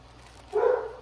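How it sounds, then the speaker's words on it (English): A dog gives a single short bark partway through, fairly close and moderately loud, against a quiet indoor background. "Oh, sorry about my dogs."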